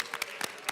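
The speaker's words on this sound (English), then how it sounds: "Let's keep that applause going." Scattered applause in the Colorado House of Representatives chamber, a few separate claps landing in quick, uneven succession, faint and distant, with no other sound over them.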